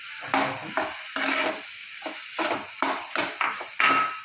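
Grated coconut being roasted and stirred in a pan, a series of close scraping stirs with a soft sizzle, about eight strokes in an uneven rhythm.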